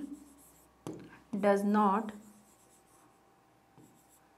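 Pen scratching across paper or a board during a lesson, faint intermittent strokes with brief pauses, interrupted midway by a short, louder burst of a voice before the quiet writing resumes.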